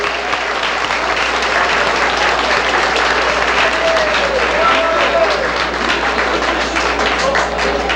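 Sustained applause from a crowd at a 1971 queen crowning ceremony, dense steady clapping that fills the scene with no break.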